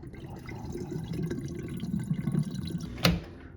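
A GE dishwasher drains water in a steady wash of flowing, gurgling liquid that builds gradually, with a sharp clunk near the end and no voices.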